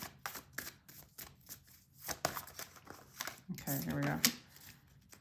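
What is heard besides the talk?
shuffling tarot cards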